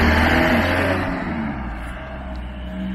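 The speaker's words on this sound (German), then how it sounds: "falls ihr das jetzt nicht verstanden habt wegen dem Auto" A car drives past on an open road near a coastal campsite, its engine loud and close at first, then fading as it moves away, with no talk over it.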